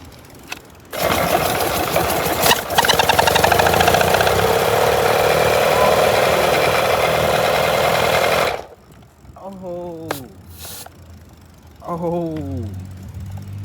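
A 3D-printed 157cc inline twin dirt bike engine runs loud and steady for about eight seconds, a dense buzzing drone, then cuts off abruptly; excited voices follow afterward.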